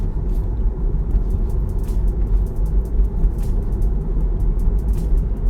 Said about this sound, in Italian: si sente solo il rotolamento degli pneumatici